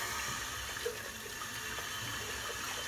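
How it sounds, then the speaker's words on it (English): Running water from a tap splashes steadily as hands are rinsed beneath it, a continuous close hiss with a few faint knocks and no talking. "Rinse the old hands."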